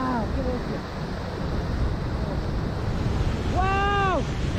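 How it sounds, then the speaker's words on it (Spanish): A large waterfall in Valle de los Chillos sends up a continuous broadband roar heard up close from the rocks, while a voice shouts excited exclamations over it. "¡Qué brutalidad de cascada, mis amigos!"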